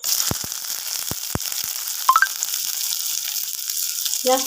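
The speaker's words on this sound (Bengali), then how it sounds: "দিয়ে একটু পেঁয়াজটা আমি ভাজা ভাজা ভাজা মতো করে নিচ্ছি" Sliced onions frying in a pan with cumin seeds give a steady close sizzle, with a few utensil clicks and stirring taps.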